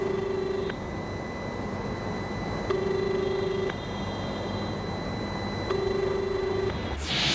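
Ringback tone on a phone call to the Kashi Covid response centre, with three evenly spaced ringing bursts that each last about a second, set against a steady background hiss.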